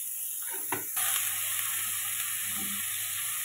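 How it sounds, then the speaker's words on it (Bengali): Cauliflower pieces salted and frying in hot oil, a steady bright sizzle with a brief clatter of stirring near the start, close by and continuous, no talking. "কপিগুলো আমি ভেজে নেব, কপিতে একটু নুন দিয়ে দিলাম আমি"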